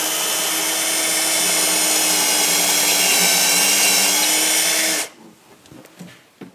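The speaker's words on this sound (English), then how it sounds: "I'm just going to drill the front one first and fix it." A power drill whines steadily into wood for about five seconds while fitting drawer slides in a TV cabinet, then stops, leaving faint handling clicks and knocks.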